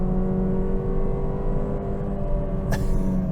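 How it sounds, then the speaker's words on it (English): A 2024 Mercedes-Benz GLA35 AMG engine drones steadily at close range while accelerating, its exhaust note humming with low harmonics, and a brief whoosh passes near the end. "you hear the exhaust note as well start to come alive"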